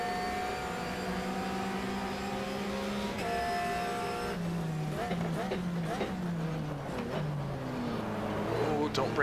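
Several race cars, among them a Viper GT car, rev and roar past in a Raceroom versus GTR2 racing sim, their engine pitch sweeping as they pass, sustained under someone talking.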